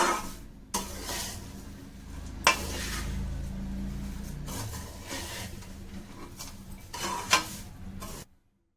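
Paper avalakki (thin flattened rice) tossed and stirred with roasted gram, cumin and sugar in a bowl, giving a steady dry rustling and scraping with occasional louder clinks of the spoon against the vessel.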